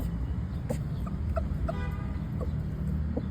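Roosters cluck in short scattered calls at moderate distance over a low, steady background rumble.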